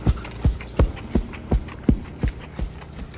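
A horse's hooves clip-clop in an even, steady rhythm of about nine close, distinct beats while being ridden in the Navajo Nation, with no talking.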